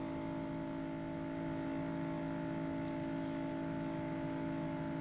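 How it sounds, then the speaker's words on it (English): NASCAR stock car engine held at full throttle, heard from the roof camera of Rick Wilson's car in the 1993 Daytona race, a steady droning hum with stable tones, faint and unbroken throughout. "You could hear that motor just kept purring, wide open."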